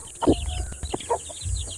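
Chickens and chicks clucking in a rural yard, a few short close clucks and chirps in quick irregular bursts over soft background noise.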